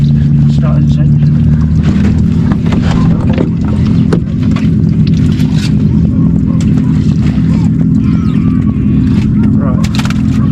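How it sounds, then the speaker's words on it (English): A small inshore fishing boat's engine runs steadily off the Cornish coast, a constant low drone with deck clatter on top. "it's just started its engine."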